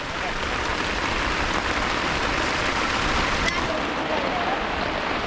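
Heavy rain falls steadily during fishing in a village, a dense continuous hiss of drops on water and surfaces that stays loud and even from start to finish, with no voices.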